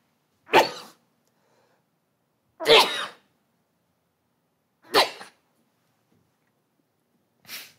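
Four separate single coughs ring out at a prayer service, spaced roughly two seconds apart, each a sharp, close burst with silence between them.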